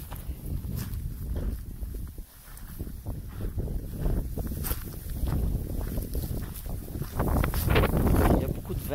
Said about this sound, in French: Il y a beaucoup de vent, alors je vais mettre pause.